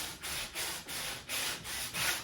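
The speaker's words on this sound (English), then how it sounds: "It also looks like you're sanding more of the top than the bottom" Rhythmic back-and-forth hand sanding with sandpaper on a wooden countertop, about seven quick gritty strokes in a steady rhythm, close and fairly quiet.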